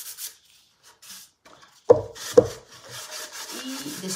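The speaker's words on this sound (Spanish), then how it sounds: "Bueno, y lijarle por dentro, claro." A wooden letter holder is sanded by hand. Two sharp knocks are followed by soft, scratchy rubbing strokes, close and fairly quiet.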